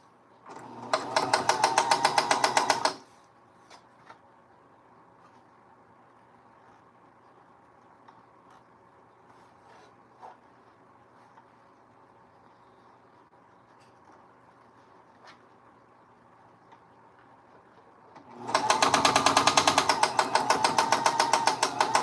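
A new home sewing machine runs in two loud, steady bursts of rapid stitching, about three seconds each, at the start and end, with quiet room tone and faint clicks between them.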